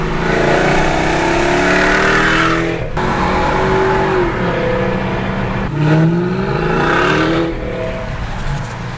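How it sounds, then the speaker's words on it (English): A Mercedes SL55 AMG V8 with muffler delete and X pipe revs up and down with a deep, throaty exhaust roar, rising and falling pitch over several seconds, loud and close. "this V8 has a very throaty and muscular sound"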